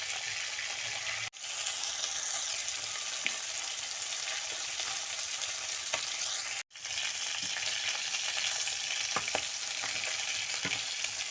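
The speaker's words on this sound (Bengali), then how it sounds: "আমার মাছটা ভাজা হয়ে গিয়েছে আমি নামিয়ে নেব" Pieces of bhola fish fry in hot oil, giving a loud, continuous crackling sizzle up close that is briefly cut off twice.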